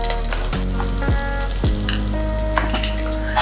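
Dry ginger and grated coconut fry together in a pan with a loud, steady sizzle and crackle. Brief scraping stirs sound throughout, and no one talks.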